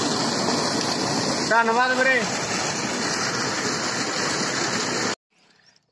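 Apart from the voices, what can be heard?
water gushing from irrigation pump into rice field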